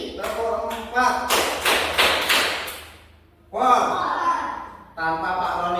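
Hand claps sound in a counted clapping game led by a teacher during a classroom session, sharp slaps in short bursts mixed with voices chanting the count, with pauses between rounds.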